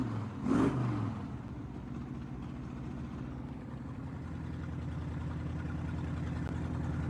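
An AMC V8 engine in a Jeep being built into a rock crawler idles steadily after restarting from flooding, a low, even hum with a brief thump early on, close and fairly quiet.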